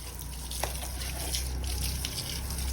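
Water gushing and splashing steadily while an N160 motorbike is being washed, a continuous close hiss of running water with a few brief spatters and no talking.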